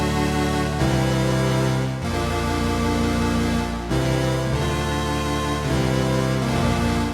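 A Prophet 12 synthesizer plays a warm organ-like Blur preset in the low C2 to C4 range, sustained chords changing every second or two in a loud, dense wash with no talking.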